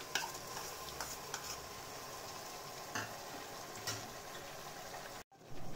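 Ginger and garlic paste frying in a pan for egg biryani, a faint, steady sizzle broken by several sharp scrapes and clicks from stirring, then a brief drop out before the sizzle returns.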